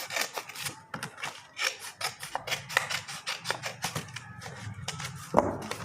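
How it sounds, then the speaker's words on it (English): Scissors cutting through a folded square of cardboard to make triangles, a close run of crisp, rasping snips in an uneven rhythm, fairly quiet, with a sharper click near the end. "Just fold it half, make triangles. 2 triangles are there, cut it off."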